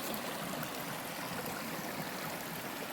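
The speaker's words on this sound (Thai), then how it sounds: "น้ำไหลจากตรงนี้ลงไปนะครับ" Water pours steadily down a forest stream at a waterfall in a national park, a continuous broad rushing wash heard alone at moderate volume throughout.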